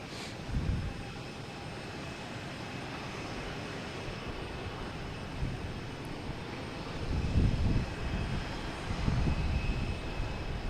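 Lufthansa Airbus jet at Boston Logan at night, a faint, distant engine rumble with a steady wash of noise and a couple of slightly louder swells.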